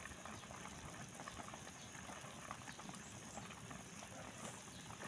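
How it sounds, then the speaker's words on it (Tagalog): Chicken adobo with Sprite at a boil in a pot, a steady bubbling hiss with soft crackle throughout, fairly quiet and alone without talk. "Kumukulo na po ang ating chicken adobo with a twist."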